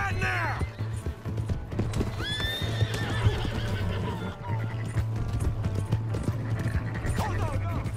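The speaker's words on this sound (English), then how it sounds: "Hey, that's my horse!" Horse hooves clip-clopping at a gallop with a sharp neigh and whinnies in Red Dead Redemption 2, a steady low game engine hum underneath and raised voices shouting over the action.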